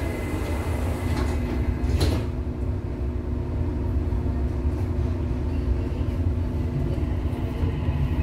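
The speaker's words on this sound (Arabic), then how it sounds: "Doors closing." A Dubai Metro Red Line train: its doors slide shut with a brief thump, then the car rumbles and hums steadily as the train moves, with no talk.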